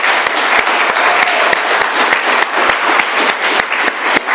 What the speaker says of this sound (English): let's give one more round of applause to our speaker, Christian.